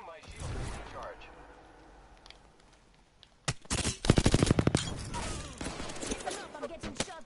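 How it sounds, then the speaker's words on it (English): Rapid video-game gunfire erupts loudly midway through a firefight, with dense bursts of automatic shots layered over speech and game noise after a quieter, talk-filled opening. "I am taking fire, friends."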